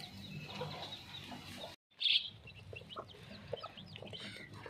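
A mother hen clucking softly to her chicks, with short clucks and high peeps against light background noise, a sharp chirp near the middle and brief silence just before it.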